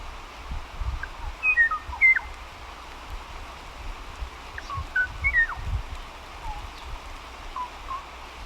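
A lone bird's mating call, the species' last recorded one, comes through as a few faint, brief whistled chirps in two small clusters over a low rumbling background.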